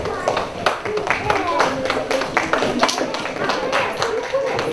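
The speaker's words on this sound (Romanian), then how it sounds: "Vă propun să-i aplaudați pe colegii voștri" An audience applauds pupils receiving book prizes at a village library event in Grințieș, with steady, close clapping from a small crowd under light talk.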